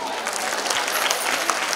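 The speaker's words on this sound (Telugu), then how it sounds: "సో కాబట్టి మీరందరూ గట్టిగా చప్పట్లు కొట్టి" Audience clapping loudly in an auditorium at a school event, a dense, steady roar of applause that holds without a break from start to finish.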